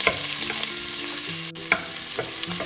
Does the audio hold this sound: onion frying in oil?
yes